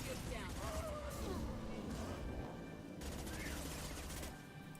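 Submachine gun fire in the Mass Effect 2 video game: sustained rapid bursts of automatic shots with rattling impacts and explosions, loud and dense throughout, with a voice talking over the combat.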